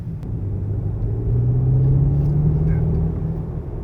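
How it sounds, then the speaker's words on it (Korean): A deep, steady BMW M5 (new generation, V8 plug-in hybrid) engine rumble that swells slightly as the revs rise to about 2000 RPM, a low throaty drone holding close and loud throughout. "방금 제가 가속 페달 진짜 살짝 밟으면서 RPM을 웅 띄웠는데"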